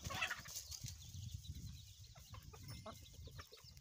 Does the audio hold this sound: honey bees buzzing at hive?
no